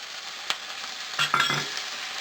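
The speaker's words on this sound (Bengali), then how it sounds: "গুঁড়ো মশলাটা দেওয়ার পর আমি একটু জলটা দিয়ে দিচ্ছি" Water added to fried ground spice mix in a pan, giving a brief burst of sizzling over a quiet steady hiss, with a single light clink of a utensil before it and no talk.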